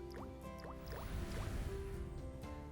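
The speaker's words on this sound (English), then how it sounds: "Let us add some dilute hydrochloric acid to the first beaker." Dilute hydrochloric acid pours into a glass beaker in a school chemistry demonstration, a soft continuous liquid fill with small drips and trickles, close and steady for a few seconds with no talking.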